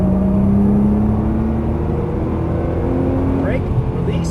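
A Nissan GT-R engine drones steadily as it pulls hard around a racetrack, a continuous loud whirring hum with shifting tone and no pauses.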